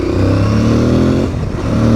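An Aprilia Tuareg 660 motorcycle engine revs up loud and close, a steady throaty drone whose pitch rises and then dips briefly before climbing again.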